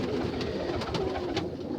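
Pigeons coo softly and repeatedly, low throaty calls layered over each other, fairly close, with no talking.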